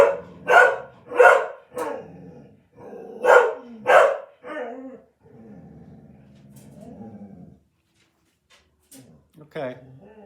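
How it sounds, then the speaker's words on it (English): A dog barks outside at night in a short volley of sharp, loud barks, pauses, then barks again a few times, followed by a quieter stretch and a faint yelp near the end. "dog barking outside."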